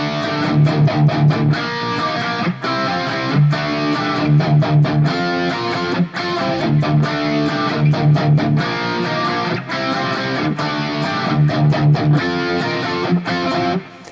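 A distorted electric guitar plays a song intro, a repeating, rhythmic riff with choppy, punchy chords, loud and up front with no voices.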